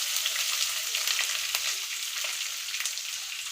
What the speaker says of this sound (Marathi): कढीपत्ता टाकून ना शेंगदाणे तळून घेऊया। त्यात ना कांदा टाकून घेऊया